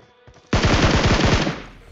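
A loud, close burst of rapid automatic gunfire in PUBG Mobile, roughly a dozen shots fired in quick succession, starting abruptly after a quiet moment and then trailing off.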